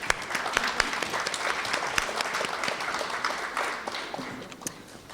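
An audience at a speech competition finals claps for the finalists, a fairly quiet, steady applause with scattered sharp individual claps, trailing off slightly near the end.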